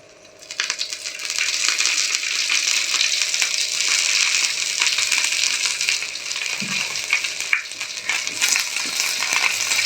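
Oil in a pan bursts into a loud, continuous frying sizzle after a brief quiet start, steady and close, with occasional scraping and clinks from stirring.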